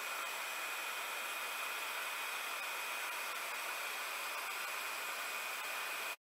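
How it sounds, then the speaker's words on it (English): A handheld hair dryer warms the sealant around a newly screwed-in RV roof vent on a vehicle roof, giving a steady, close, continuous whoosh of blown air with no talking. "I'm going to go ahead and get my dryer and warm it up"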